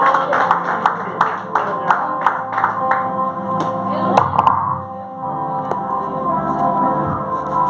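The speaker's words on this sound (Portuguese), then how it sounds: "a salva de palmas lá ao Senhor" A church congregation gives rapid, uneven applause with sharp claps for about five seconds. The clapping then thins out under a murmur of voices.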